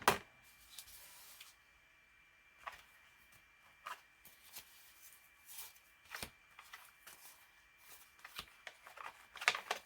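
A stack of plain cards handled during craft studio organizing gives soft, scattered flicks and rustles, faint and close, in irregular bursts with quiet gaps between them.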